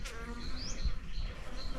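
Angry bees swarming out of a nest while guarding their young, a dense, steady buzzing drone filling the whole stretch at close range, with no voices over it.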